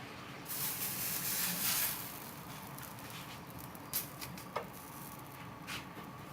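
Garlic naan, its underside brushed with water, is laid on a hot tawa and sizzles with a steady, close hiss that swells briefly near the start, with a few small pops and no talking.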